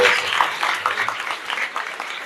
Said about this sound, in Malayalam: എല്ലാവരും ഒന്ന് കണ്ടേ, സാറിന് കൈയടി കൊടുത്ത്